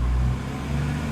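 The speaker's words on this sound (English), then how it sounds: "you can hear the bus that's just chilling right next to the window" A city bus idles or passes right outside a window, a steady low engine rumble with a faint higher whine, heard indoors at moderate level with no talk.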